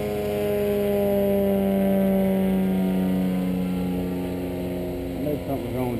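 Boat engines run at half throttle with a steady droning hum and strong tonal whine throughout, close and continuous, while wind and water noise sit underneath and a brief change in pitch comes near the end.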